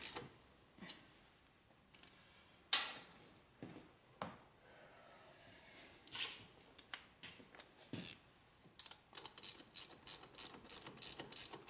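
A ratchet wrench clicks while tightening cam tensioner bolts on a 2004 Harley-Davidson FLHT touring motorcycle with an 88 twin cam engine, irregular close strokes that quicken into a steady rhythm of sharp clicks near the end.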